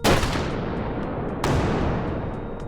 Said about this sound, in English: The Panzer Shrek. This was Germany's tank killer.